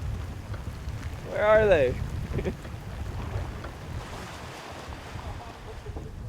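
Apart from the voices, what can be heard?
rain and wind of a squall on a boat at sea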